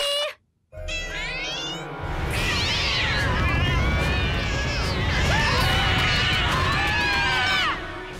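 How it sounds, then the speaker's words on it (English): A cartoon cat meows loudly and repeatedly in long, rising, wailing cries over a steady noisy background, with a few shorter meows before a brief gap. "Here, kitty, kitty, kitty!"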